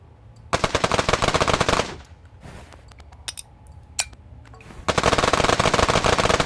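Rapid automatic bursts of pixel-style bullet fire in Untitled Pixel Simulator, loud dense rattling volleys at the start and end with scattered single shots and zaps in between.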